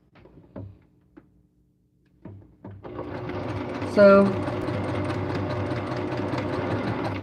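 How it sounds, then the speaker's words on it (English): After a few clicks and a brief spoken word, a sewing machine starts and runs steadily with a loud, rapid mechanical whir. "please let me know if the sewing machine is too loud."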